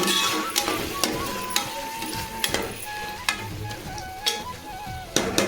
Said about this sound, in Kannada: ಈಗ ಟೊಮೊಟೊ ಎಲ್ಲ ಫ್ರೈ ಆಗಿದೆ